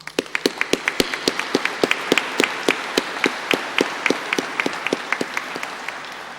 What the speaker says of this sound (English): Please join me in applauding all those who have taught and supported you